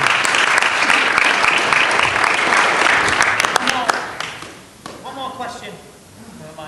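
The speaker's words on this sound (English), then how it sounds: "Round of applause." An audience at a K-1 kickboxing pre-fight press conference in Los Angeles gives loud, dense applause that fades after about four seconds. A few scattered claps and a voice follow.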